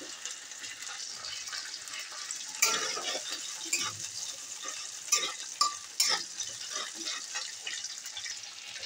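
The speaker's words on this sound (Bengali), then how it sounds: "পেঁয়াজগুলো ভাজা হয়ে গেছে" Onion, cumin seeds and a bay leaf frying in oil in a pan at home, stirred with a utensil: a steady soft sizzle with scattered scrapes and clinks of the spoon against the pan, no talking.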